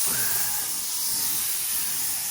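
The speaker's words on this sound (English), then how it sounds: "set the sprayer to about 500 psi" A paint sprayer set to about 500 psi hisses steadily and loudly while spraying white paint onto an old 1970s Mercedes, one unbroken airy rush close by.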